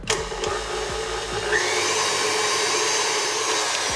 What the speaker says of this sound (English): Going to use the whisk attachment and then just mix this so it's combined on medium speed, about setting 5 on your stand mixer for 30 seconds.